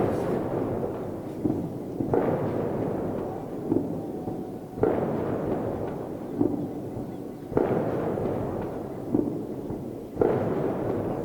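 Ceremonial gunfire salute at a welcome reception for Kenyan President William Ruto in India, a slow series of evenly spaced booming shots about every two to three seconds, distant and echoing.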